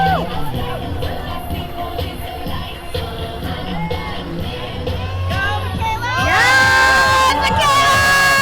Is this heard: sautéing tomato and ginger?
no